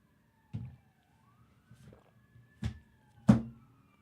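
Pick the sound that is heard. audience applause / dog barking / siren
siren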